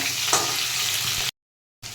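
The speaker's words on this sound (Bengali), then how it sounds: "এবারে আমি আলু আর ফুলকপিটা ভালোভাবে ভেজে নেব।" Potatoes and cauliflower sizzle steadily in a hot, oily pan for a cauliflower, egg and potato curry, a dense close crackle that cuts off to silence briefly before resuming.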